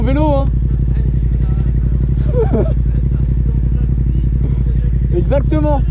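A steady motorcycle engine drones throughout at close range, with a voice talking over it in short bursts.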